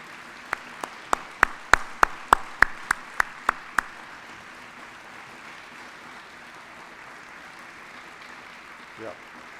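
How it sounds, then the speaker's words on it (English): Hands clap for standing military veterans at a hall of fame ceremony: about a dozen sharp, evenly spaced claps in a quick steady rhythm, then the room goes quiet apart from a faint low murmur. "let us clap for you for just a moment"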